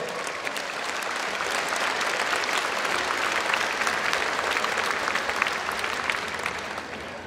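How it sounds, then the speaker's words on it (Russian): Sustained, dense audience applause fills an award ceremony hall, loud and even throughout, with no speech over it. "Аплодисменты."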